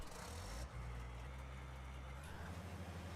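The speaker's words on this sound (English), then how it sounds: "Oh, please start the engine first." Vehicle engine idling in Farming Simulator 19, a low steady rumble that shifts slightly in tone partway through, quiet and continuous with no speech.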